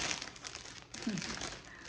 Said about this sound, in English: I'm gonna add bubble wrap